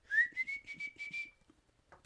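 A person whistles a quick rising note, then a steady tone pulsing in several short bursts, close but fairly quiet, followed by a brief breath.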